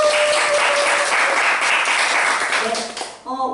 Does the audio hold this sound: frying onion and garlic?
no